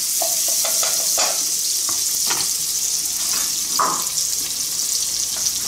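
Chopped onion frying and browning in a pan, a continuous bright sizzle with intermittent stirring scrapes and clicks, fairly close and with no talk.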